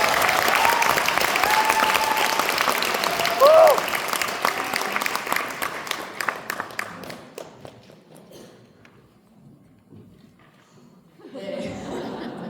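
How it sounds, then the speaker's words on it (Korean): An indoor audience at a product presentation applauds loudly for several seconds, the clapping thinning out and fading to near silence before a brief murmur of voices returns at the end. "저 박수 한 번만 쳐주시면 안 될까요?"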